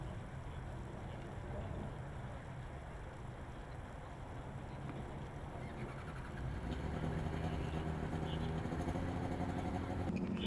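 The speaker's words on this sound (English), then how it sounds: "sounds like Coburg is warming up their engine in preparation for their skid pad run" A Formula Student race car idles and warms up before a skidpad run, a steady low engine drone heard from a distance that swells slightly in the second half, mixed with broad outdoor noise.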